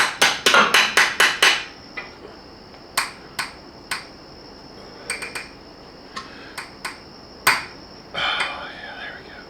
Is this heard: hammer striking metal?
yes